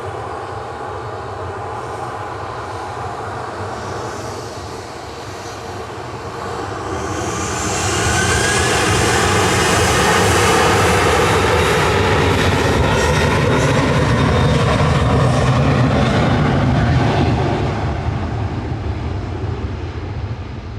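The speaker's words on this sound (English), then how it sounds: "Getting there with the ATR 72 from the Isle of Man" An ATR 72 turboprop from the Isle of Man arrives at Manchester Airport, its propeller drone rising from a moderate hum to a loud, close roar midway before easing slightly, heard alone without talk.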